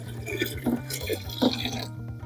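Cooking water from a saucepan is poured into a watering can, giving a gurgling, bubbling splash with glugging pulses for about two seconds before stopping, with a background hum underneath.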